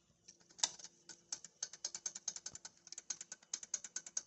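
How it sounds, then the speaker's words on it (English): A loose turbo wastegate flapper on a 2011 Audi A4 Avant rattles in a quick series of small, sharp clicks at close range as the rod is worked, faint but distinct and without speech. "you hear that click click click, that's play in the wastegate flapper"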